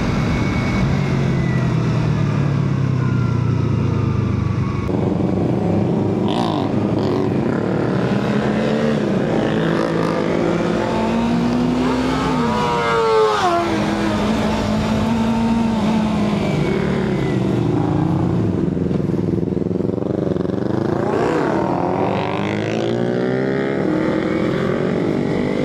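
Toyota Supra engine and exhaust revving loudly and continuously over about 25 seconds, pitch rising and falling with throttle changes, heard from close by on a ride.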